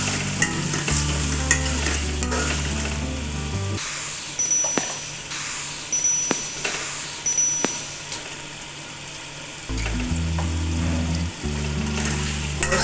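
Meat added to a pot with black cardamom for chicken yakhni pulao and stirred, producing a loud frying sizzle with scraping and clanks over a steady low stove hum.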